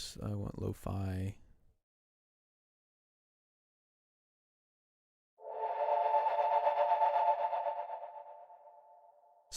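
Speech comes first, then silence, then a lo-fi audio plugin tone sounds with reverb as a steady, muffled hum with a shimmering, echoing wash that slowly fades.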